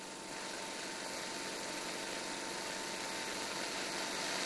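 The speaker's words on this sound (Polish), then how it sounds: "Spawarka prądu stałego posiada silnik prądu przemiennego napędzający prądnicę prądu stałego." A DC arc-welding machine, an AC motor driving a DC generator, runs with a steady, even hum and faint whine, unchanging from start to finish, quiet and with no voices.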